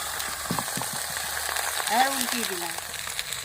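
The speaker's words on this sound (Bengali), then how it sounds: "কলা পাতার পাতুরি আমার হয়ে এসছে। এবার উল্টিয়ে দিলাম" Banana-leaf parcels of puti fish paturi fry in a pan and are flipped over, giving a soft steady sizzle with faint scraping and clatter of the turn.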